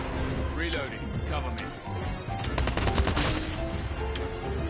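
Rapid bursts of video game gunfire over busy game music and effects, while someone talks excitedly in Spanish over the action.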